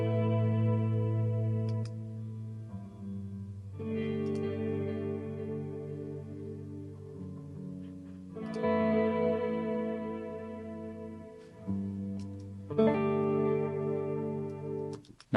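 Electric guitar run through a Fractal Axe-FX III with delay and reverb, several chord phrases ringing out with washy echoes and lingering tails, steady and fairly loud, no voices.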